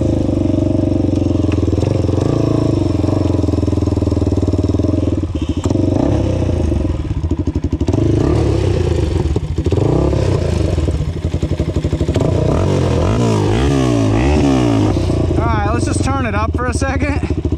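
A Honda 400ex ATV with a clapping engine running in third gear, a loud, continuous close-up engine drone with clattering and shifting pitch toward the end, under a voice speaking.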